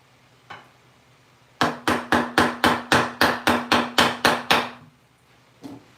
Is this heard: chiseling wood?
yes